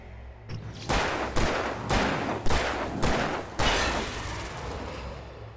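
Gunfire in Alan Wake Remastered, five or six loud, booming shots spaced roughly half a second to a second apart, each with a long echoing tail, close and alone.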